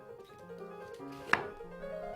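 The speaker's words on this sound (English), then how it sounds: "Cut the onion into half-inch wedges." A knife chops an onion into half-inch wedges for gyudon, a Japanese beef rice bowl, with soft board taps and one sharp cut standing out near the middle, close and clear with no talk.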